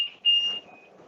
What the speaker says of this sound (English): And that's my alarm.